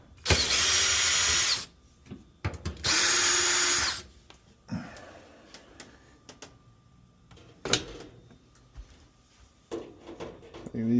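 A power drill backs out the front-panel screws of an LG dryer in two loud, steady whirring bursts of about a second each, followed by quieter handling clatter and knocks.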